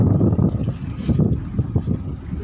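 Strong wind at sea buffets the microphone in heavy, rumbling gusts, with a low, continuous roar of rough water and no voices.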